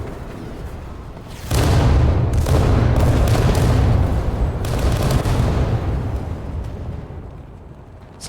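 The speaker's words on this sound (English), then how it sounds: "Some big explosions trying to take the second floor." A loud explosion booms in the game War Thunder's infantry mode, followed by a rumbling series of blasts and crackling bursts that slowly fade out.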